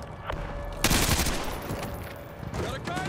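Team gunfire in Call of Duty: Modern Warfare 2 Remastered: a continuous heavy fusillade of overlapping rifle shots from several shooters, loud and sustained throughout, with a burst of louder shots near the one-second mark.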